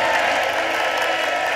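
A studio audience applauds the four panelists on a talent game show, a dense, steady wash of clapping that stays loud for the whole stretch.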